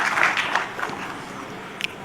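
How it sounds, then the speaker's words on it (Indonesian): An audience at a presidential event launching village cooperatives applauds, a short burst of clapping that fades quickly to a low murmur, moderately loud and somewhat distant. "Jadi tepuk tangan untuk pembantu-pembantu Presiden yang telah bekerja keras."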